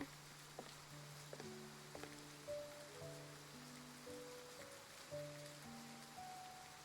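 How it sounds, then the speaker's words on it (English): Soft rain falls in a romance video game scene, a faint steady patter under gentle melodic chimes and background music, with scattered droplet taps throughout. "As raindrops suddenly fall"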